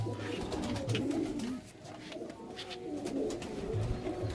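Shak Sabuj pigeons coo in a loft in a continuous low, rolling murmur at moderate distance, with faint rustling throughout.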